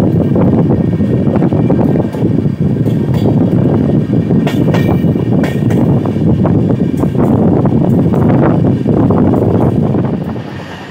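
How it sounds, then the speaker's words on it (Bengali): The Howrah–Bolpur Shantiniketan Express is underway after departing, making a loud, continuous rumble with wind buffeting the microphone throughout and no voices. "তো ফাইনালি আমাদের ট্রেন গংপুর থেকে ছেড়ে দিয়েছে"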